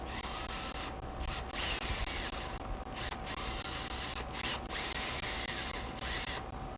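Small motor running steadily, captured as a sound sample with wind noise rushing from its ports, a continuous whirring hum with broadband airflow hiss that swells and dips in repeated pulses over several seconds, no talking.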